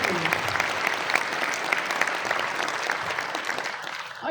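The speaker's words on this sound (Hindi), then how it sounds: "एक बार जोरदार तालियां हो जाए सबके लिए।" Audience applause at a gathering, dense steady clapping from many hands, sustained and fairly loud for a few seconds before tapering slightly at the end.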